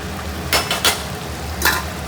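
Fish frying in raw mustard oil: a steady low sizzle runs throughout, broken by a few short bright hissing bursts as the pan crackles, close and moderately loud with no talking.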